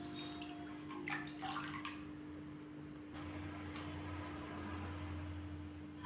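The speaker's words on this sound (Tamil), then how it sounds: "இது வந்து நல்லா தேய்ச்சி கழுவி எடுத்துடலாம்." A new clay pot is scrubbed and washed with water, with soft wet rubbing and splashes early on, then quieter sloshing over a steady low hum, faint and close.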